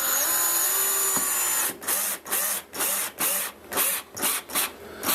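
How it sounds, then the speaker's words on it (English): A power drill drives a screw while patching a hole in a wall: a steady whir, then about eight short, loud bursts of drilling in quick rhythm, with no talk. "So yeah, you just drive her on in, give her a tighten down"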